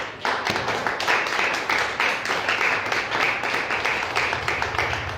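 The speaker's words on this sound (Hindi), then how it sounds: "ताली बजा दो यीशु के लिए।" Church congregation clapping for Jesus, a dense, continuous wash of many hands applauding together with steady rhythmic beats, loud and close, lasting several seconds.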